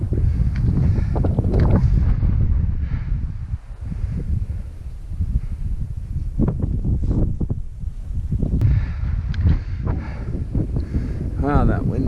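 Cold wind gusts steadily across an exposed mountain summit ridge, a continuous buffeting rush with microphone wind noise throughout, while people talk intermittently over it.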